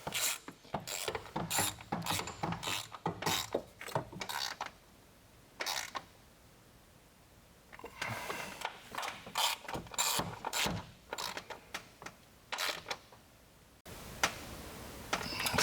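A hand ratchet snugs the VCT solenoid bolts on a Ford F-150's 5.0L Coyote engine, clicking in quick bursts that stop and start again. The clicks are close and crisp, with no talking over them.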